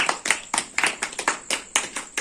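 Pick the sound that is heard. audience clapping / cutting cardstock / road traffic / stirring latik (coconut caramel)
audience clapping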